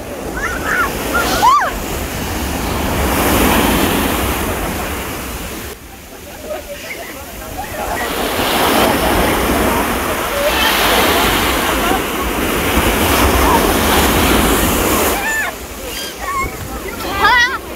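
Ocean waves break and surge onto the shore near Alanya, a loud, close rush of surf that swells and recedes in long washes, with wind and voices talking over the water.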